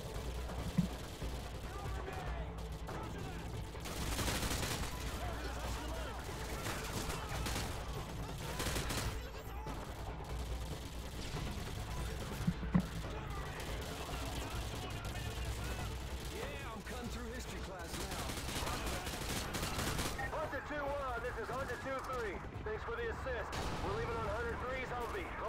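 Hip-fired gunfire in Call of Duty: Modern Warfare 2, with repeated bursts of shots and louder volleys scattered across the stretch at a fairly low overall level, while a player talks throughout.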